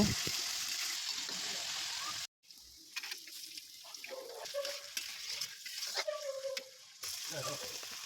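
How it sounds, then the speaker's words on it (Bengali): Mixed vegetables with peas and green chillies fry in oil in a pan, giving a soft, steady sizzle and stirring scrapes at low volume, with a brief break and some watery sounds. "সবজিগুলো দেওয়ার পর তার মধ্যে মটরশুঁটি এবং কাঁচা লঙ্কা দিয়ে ভালো করে ভেজে নেব।"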